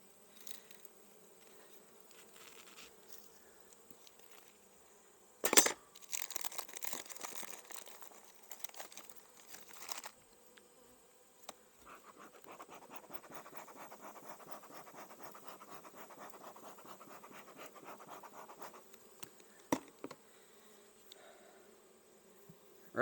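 Honeybees in a good-sized production-yard colony with the hive opened for mite treatment, a steady close buzzing swarm with scraping and crinkling handling noises, a sharp knock near the start and a denser swell of buzzing mid-way.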